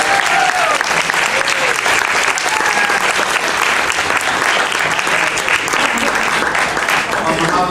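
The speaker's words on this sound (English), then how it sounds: "we have a round of applause for Deloitte" An audience at a university accounting society debate against a Deloitte team applauds steadily and loudly, a dense clapping that continues throughout.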